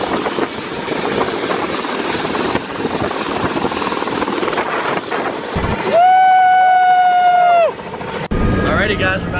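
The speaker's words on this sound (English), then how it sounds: "we're about to take off right now, and it should be fun. It's our first ever helicopter ride." A helicopter's engine runs on the ground before takeoff on a flight over an active volcano: a steady, loud mechanical roar, then a rising turbine whine that holds for a couple of seconds before cutting off.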